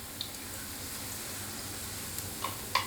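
Eggs frying with garlic in a pan for Thai scrambled eggs, heard as a steady, soft sizzle with a few faint pops and small ticks near the end, and no talking.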